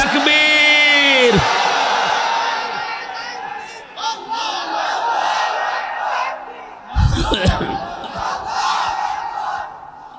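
A large religious gathering roars a collective chant in answer to a preacher's takbir call, a loud swelling crowd shout that rises, sustains and surges again, with a lead voice opening it.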